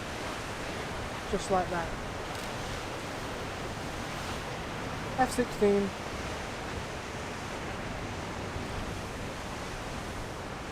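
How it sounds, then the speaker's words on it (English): Ocean waves surging against coastal rocks during seascape photography, a continuous broad wash of surf with brief spikes, while a person talks briefly. "I'm just waiting for a wave to hit that"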